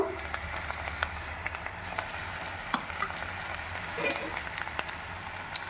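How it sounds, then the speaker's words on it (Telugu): Cauliflower pieces for gobi manchurian deep frying in hot oil, giving a continuous crackling sizzle with scattered sharper pops and spits, close and moderately loud, with a low steady hum underneath. "మనకి ఆయిల్ వేడెక్కింది ఇప్పుడు ఇందులోకి వేసుకొని అన్నీ ఫ్రై చేసుకోవాలన్నమాట"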